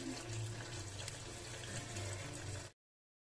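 Steady rush of water running into a large cooking pot, continuous and fairly loud for a few seconds before cutting off abruptly.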